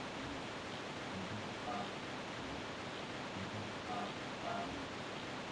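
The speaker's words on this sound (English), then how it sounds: "Actually, the waterfall's a little bit loud." Steady roar of a waterfall in the video game Chulip, a loud, continuous broadband rush of falling water that fills the scene evenly throughout, with faint tonal game sounds flickering over it.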